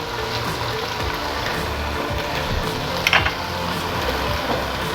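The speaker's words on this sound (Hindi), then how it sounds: "अब इसको अच्छे से हम फ्राई करेंगे।" Ginger garlic paste frying with onions in a pan for Kashmiri chicken pulao, giving a steady, even sizzle throughout with one brief sharper clink or spatter near the middle.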